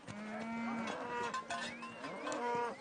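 Maasai cattle in the Serengeti, with several cows mooing close by in long, overlapping lowing calls that rise and fall one after another.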